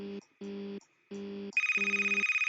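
An electronic phone ring in the video game FNAF Last Time: three short burbling tones with pauses, then a continuous rapid trilling ring, clear and close with no voices.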